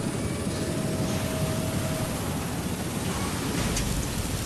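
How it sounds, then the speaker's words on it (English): A helicopter flying in The Bureau: XCOM Declassified, a steady, loud, broadband engine and rotor roar that holds evenly throughout, with no voices over it. "Flying away on that helicopter again."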